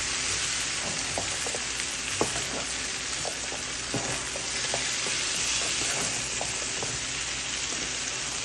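Prawns sauté in a hot pan with young jackfruit, giving a loud, constant sizzle. Scattered spatula clicks and scrapes sound through it as the prawns are stirred.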